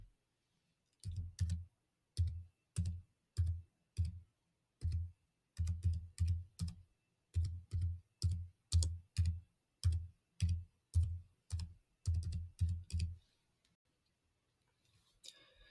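Keys on a computer keyboard are typed in a steady, close series of distinct clacks, about two dozen in quick clusters, fairly quiet with no talking, then a short pause and faint final taps.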